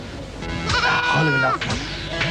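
A male goat bleats close by from a neighbouring house, giving a few wavering, nasal cries in quick succession over faint background noise.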